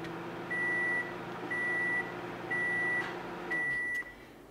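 A microwave oven heating marshmallows finishes with four evenly spaced electronic beeps, each about half a second long, sounding clearly over a low hum.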